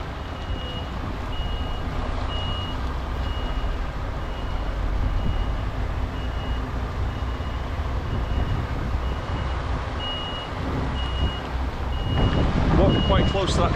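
A delivery truck reverses straight onto a loading ramp, its high reversing beeper pulsing at a steady rhythm over a loud, constant diesel rumble, with noise swelling near the end.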